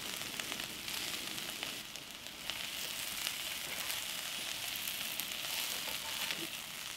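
Spicy potatoes stir-fry in a hot pan, giving a steady close sizzle and crackle with occasional stirring scrapes, no voices.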